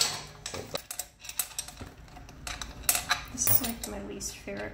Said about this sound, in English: I hear change in there.